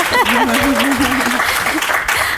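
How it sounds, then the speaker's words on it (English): Steady applause fills the room while a voice speaks over it, the clapping dense and continuous throughout. "applause is definitely allowed"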